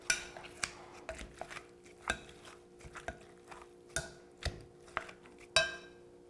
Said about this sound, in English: now I'm just going to dig down deeper into the cherry tomatoes, so just make sure they're all chopped up together